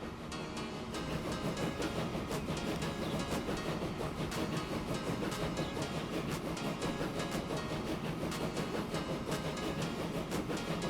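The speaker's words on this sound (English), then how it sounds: "look at the new train come out" A train departs in the game Transport Fever 2, a steady rumbling roll of wheels and carriages at moderate, even loudness, continuous with no talking.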